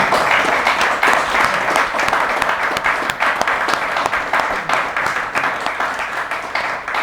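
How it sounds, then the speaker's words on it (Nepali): Audience applause at a book launch, a dense burst of many hands clapping close and loud, holding steady and then gradually thinning out. "यहाँ ठुलो ताली बजाइदिनु।"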